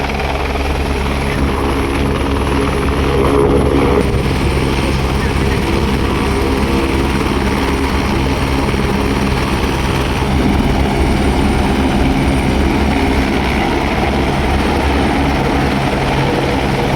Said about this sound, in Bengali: বলতে একটা হেলিকপ্টার আসছে।